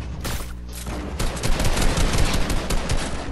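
Gunfire in the video game Fortnite, a dense rattle of rapid shots in quick bursts, loud and close, continuing throughout with no talking.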